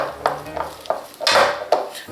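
A utensil stirs pecan pie filling with vanilla extract in a bowl, scraping and clinking against the sides in regular strokes roughly every third of a second, close by, with one longer swirling scrape in the middle.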